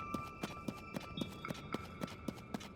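Hooves of a horse led by a rider in Zelda: Tears of the Kingdom clip-clop at an even walking pace, about ten crisp steps close by, over a faint steady background tone.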